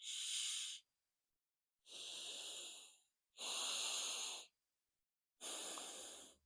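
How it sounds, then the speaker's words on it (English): Alternate nostril breathing in the Nadi Shodhana yogic style: four long, close airy breaths, each about a second, separated by short silent pauses, heard alone. "So when you do alternative nostril breathing like Nadi Shodhana"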